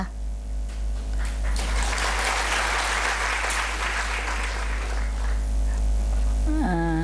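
Sustained audience applause welcoming the speaker Sudha, steady dense clapping that swells and holds for several seconds over a low mains hum, fading out as a voice begins near the end.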